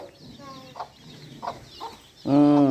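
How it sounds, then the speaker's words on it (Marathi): Chicks peep in thin repeated notes with a few soft clucks, then a hen breaks into loud, close clucking at the end. "ही कोंबडीची पिल्ल बघा"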